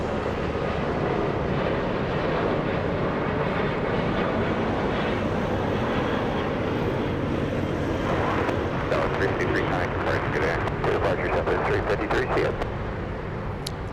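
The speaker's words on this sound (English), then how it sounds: "I think we have a takeoff happening" A jet airliner takes off at Los Angeles International Airport, a broad, loud, steady engine roar that fills everything, with faint crackling and a voice briefly rising toward the end.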